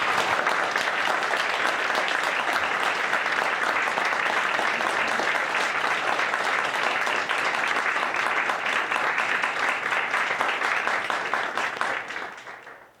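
A large school audience gives sustained, dense applause for several seconds, many hands clapping together at a steady loud level before the sound tapers off and fades at the end.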